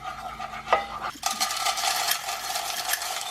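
Garlic and chili flakes fry in a pan with a steady close sizzle and crackle, joined by a brief clink and scrape of a utensil stirring.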